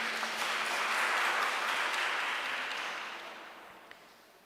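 A congregation applauds at a Christmas church service, a broad wash of many hands clapping that swells and then fades away.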